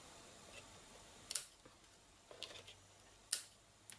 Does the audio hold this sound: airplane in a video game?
no